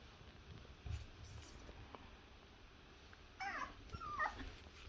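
A young puppy waiting to be fed lets out soft, high whimpers and yips, quiet and intermittent, in bursts near the end, while a person murmurs gently nearby.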